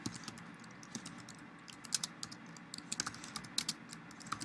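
Steady typing on a computer keyboard, close and fairly quiet, with quick irregular clusters of key clicks over a soft background hum and no voices.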